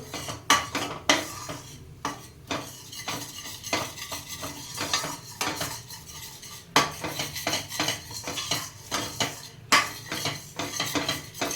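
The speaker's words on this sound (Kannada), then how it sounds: "ಬೆಣ್ಣೆ ಹಾಕ್ಕೊಂಡು ಮೈದಾ ಹಾಕ್ಕೊಳ್ತೀನಿ." Butter and maida flour frying in a pan while being stirred with a metal utensil, giving repeated scraping and clinking strokes against the pan over a soft background sizzle, close and steady throughout.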